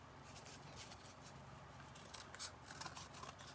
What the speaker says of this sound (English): on this cardboard, I'm just going to cut it out.